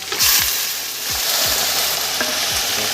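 Mutton pieces hitting hot oil in a pan for a curry, a loud steady sizzle with several scraping stirs and spatula knocks against the pan, no talking.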